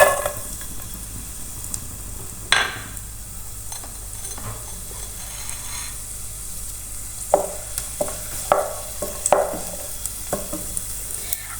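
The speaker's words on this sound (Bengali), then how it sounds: "তারপরে আমি দিয়ে দিচ্ছি এর মধ্যে রসুন কিমা" Minced garlic frying in oil, a steady close sizzle with occasional sharp stirring scrapes and clicks, several in quick succession near the end.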